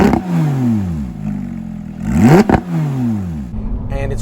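A Porsche 911 GT3 RS cruises below 3,000 RPM with a loud, booming exhaust. Its note rises and falls in repeated surges, and a sharp throttle blip lands midway.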